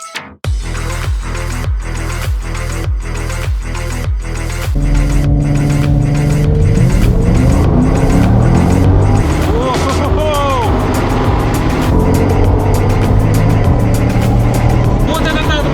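A Volga with a 430-horsepower engine races a Corvette. Its engine revs loudly, climbing through gears in regular rising pulses, then settles into a sustained roar with tyre and road noise as people talk inside the car.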